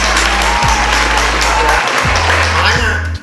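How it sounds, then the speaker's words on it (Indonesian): Audience applause for Indonesian policewomen, loud sustained clapping over a low droning hum, fading slightly at the end. "Beri tepuk tangan dulu untuk seluruh polwan di Indonesia"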